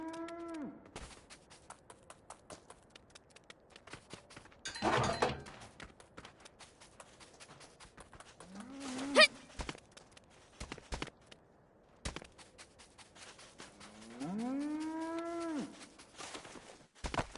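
Cows moo several times in a video game set in mine ruins, long drawn-out lowing calls with gaps between them, mixed with scattered footsteps and clicks.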